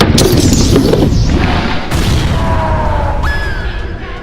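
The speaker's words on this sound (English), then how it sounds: "He then casts another horrific spell that causes their bodies to erupt and explode with virulent necrotic matter" Bodies bursting apart from a necrotic spell in a fantasy scene, a loud wet crash and boom filling the first seconds, then rumbling debris fading under a rising tonal whine.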